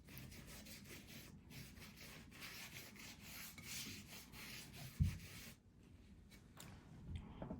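Cloth rubbing and wiping excess wet paint off a thrifted home decor piece, a steady soft scrubbing texture close up with a brief bump near the end and no talking.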